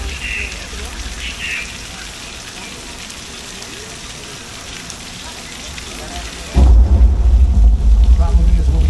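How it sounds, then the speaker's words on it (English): Artificial rain falls from hidden overhead sprinklers onto an outdoor studio set, making a steady hiss of water spatter that is joined near the end by a louder, deeper rush. "rain is created by an overhead sprinkler hidden from view"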